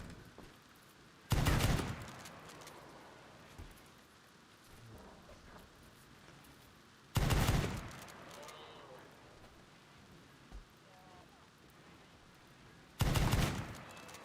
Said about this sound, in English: I really like the sound of that gun